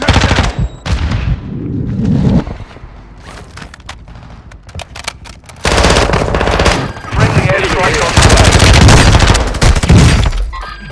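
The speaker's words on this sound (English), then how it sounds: "I'm taking effective fire!" Gunfire in Warzone 2, loud and close, with bursts of automatic fire and sharp single shots coming in clusters, a short quieter stretch, then a long heavy volley, with game voice lines in between.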